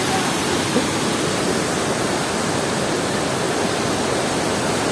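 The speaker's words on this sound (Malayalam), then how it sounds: "നല്ല വെള്ളത്തിന്റെ സൗണ്ട് ഉണ്ടാവും." Steady, loud rushing roar of water at Marottichal waterfall, a dense broadband wash that holds unchanged for the whole stretch with no voices breaking through.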